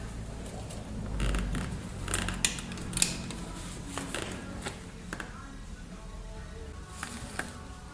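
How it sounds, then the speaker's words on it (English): Driver's door panel being pried off a Javelin SST with a trim tool, giving scattered sharp clicks, snaps and creaks of plastic clips popping loose, close by with no talk. "Just took the driver's door panel off"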